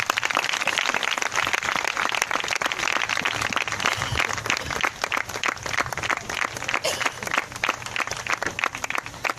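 A church congregation claps in welcome, a loud, continuous patter of many hands close by with a few voices faintly mixed in.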